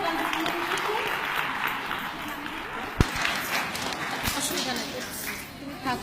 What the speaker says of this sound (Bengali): বড় একটা হাততালি দিই আমরা